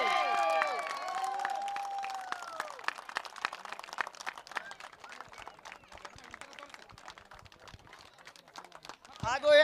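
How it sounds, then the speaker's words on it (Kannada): A crowd claps during a prize distribution at a cricket premier league, a burst of applause at first under an announcer's voice that thins into scattered claps while talking continues. "ಜೋರಾದ ಚಪ್ಪಾಳೆ ಬರಲಿ."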